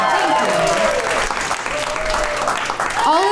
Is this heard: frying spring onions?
no